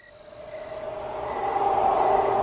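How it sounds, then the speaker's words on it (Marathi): Crickets chirp at night in cool, open darkness: a steady, high, thin chirring that soon fades under a rising, breezy hiss. "रातकिड्यांचा किरकिर करणारा आवाज आणि थंड सुटलेली हवा"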